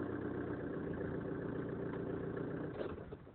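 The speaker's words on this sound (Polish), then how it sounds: "Zapaliłem samochód. Chodzi już przynajmniej 2 minuty." 2011 Ford Transit van with an oil pressure fault idles on a cold morning at minus 4 degrees, a steady low mechanical drone heard up close that dips slightly near the end.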